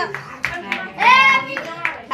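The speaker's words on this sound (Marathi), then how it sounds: "टाळ्या वाजवा." Hand claps ring out at a home birthday celebration, quick and close with short gaps between them, and a voice and an adult's sing-song speech run over and between the claps.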